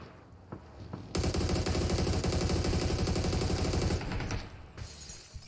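Rapid automatic gunfire from the battle royale shooter PUBG, a dense sustained burst of shots lasting about three seconds, loud and close, preceded and followed by quieter game ambience with a few isolated pops.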